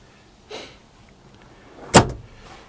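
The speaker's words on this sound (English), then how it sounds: "you just push this button here and you hear the trunk release" Vacuum-operated remote trunk release on a 1972 Chrysler New Yorker: a soft thump followed about a second and a half later by a sharp, loud latch clunk, heard close up inside the car.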